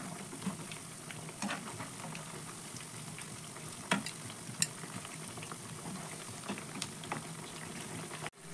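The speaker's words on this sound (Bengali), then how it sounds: "পিঠে ভাজতে কিন্তু একদমই সময় লাগে না এই পিঠে" Semolina pitha fries in hot oil in a pan, a steady soft sizzle and bubbling with a few sharper clicks and taps, without anyone speaking.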